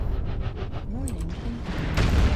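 Missile salvo striking a mech's center torso in MechWarrior, a dense roll of rumbling impacts and low booms with brief game alert tones, swelling louder toward the end.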